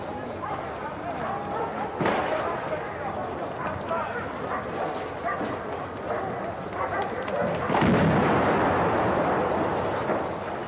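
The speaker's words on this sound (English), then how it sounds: "The explosion ripped through the building." A loud bomb blast bursts out partway through, ripping through a building, its roar lingering over a dense, noisy background with voices and commotion throughout.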